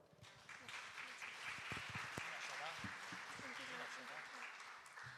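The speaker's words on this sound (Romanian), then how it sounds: "Așadar, să-i aplaudăm!" Audience applause at an autumn ballad festival concert, steady clapping mixed with voices talking and calling out over it.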